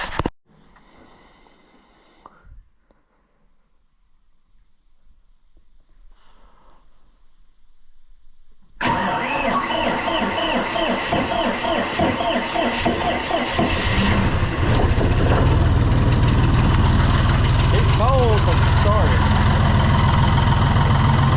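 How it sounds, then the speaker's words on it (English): A small diesel tractor engine cranks and catches after quiet stretches with faint sounds, then idles loudly and steadily with a rough, knocking low rumble that continues throughout. "I'm gonna get the tractor started and let that warm up"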